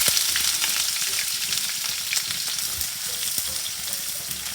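Onions fry in oil with cinnamon, cardamom and cloves, a steady close sizzle broken by frequent light clicks and scrapes of stirring.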